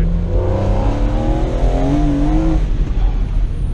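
A BMW Z4 M engine revs up under acceleration while driving, a loud, close howl with climbing pitch that peaks and then eases back off.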